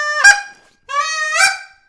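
Two loud, close goose-call notes blown in quick succession, short honking clucks imitating a goose, with no talking.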